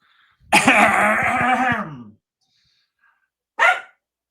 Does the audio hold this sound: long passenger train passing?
no